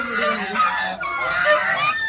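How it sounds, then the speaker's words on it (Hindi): Honking and quacking from a flock of waterfowl at a pond in a temple ashram grounds, a busy, continuous chorus of overlapping calls close by, with no talk over it. "कितनी सारी बत्तख है यहाँ पर,"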